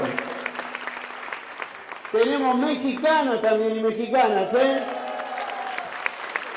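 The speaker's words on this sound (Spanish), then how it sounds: "Muy bien, fuerte el aplauso." Applause from the audience at an inaugural forum panel, clapping steady at first, then largely covered by a loud amplified voice speaking over it in the middle before the clapping carries on underneath.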